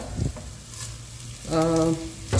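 Mustard seeds, cumin, fenugreek seeds and curry leaves sizzle in hot oil for Punjabi kadhi pakora, a steady close crackle and hiss with a brief tonal whine partway through.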